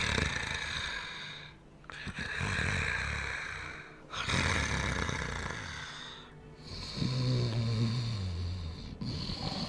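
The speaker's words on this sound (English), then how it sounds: "Whose snoring is that?" Loud, close snoring from an unseen character in the Dark Souls video game, slow rasping inhalations and exhalations in a steady cycle of about two seconds each, with a deep growling undertone late in the cycle.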